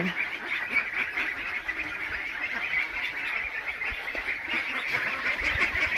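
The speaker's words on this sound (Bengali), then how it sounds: "এই হাঁসের বাচ্চাগুলোর জাত হচ্ছে খাকি ক্যাম্বেল।" A dense chorus of Khaki Campbell ducklings peeping and quacking together, continuous and fairly close, with no talking.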